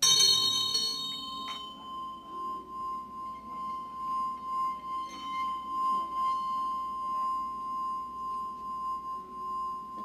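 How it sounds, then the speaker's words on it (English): A Tibetan meditation bell rings out with a bright metallic strike and then a long pure tone that fades slowly and wavers as it dies away, heard close and alone. "Generally the bell is used at the beginning and at the end of a meditation."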